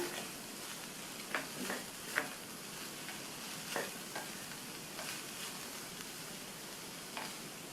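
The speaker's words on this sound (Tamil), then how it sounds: "தேங்காய் துருவல் சேர்த்ததுக்கப்புறமா நல்லா ஒரு தடவை மிக்ஸ் பண்ணி விட்டுறணும்" A spatula scrapes and turns banana stem stir-fry with grated coconut in a pan, a few soft irregular knocks over a faint, steady sizzle, quiet and close with no talking.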